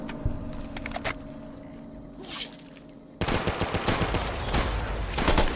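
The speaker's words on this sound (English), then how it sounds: "Man, this Halo battle rifle is sick." Rapid bursts of Halo battle rifle fire in Fallout New Vegas, sharp repeated gunshots at moderate loudness against a low game ambience, with louder, denser firing in the second half.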